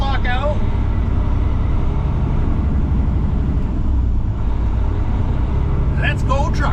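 A little truck drives with its cross lock and diff lock out, its engine rumbling steadily and loudly at close range for the whole stretch, and a voice breaks in briefly near the end.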